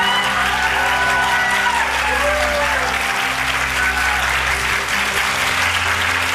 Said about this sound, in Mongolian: Энэ хүмүүс чамд алга ташиж байна.